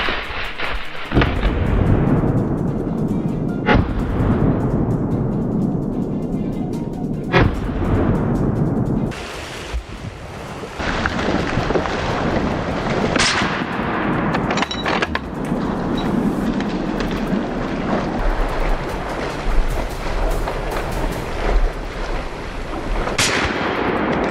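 Rifle shots during a wild boar hunt on open grassland, several sharp loud cracks spaced seconds apart over a steady rumbling background, with booming low echoes.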